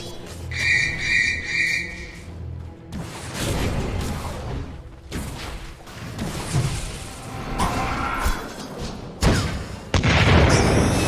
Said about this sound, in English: In comes the explosion.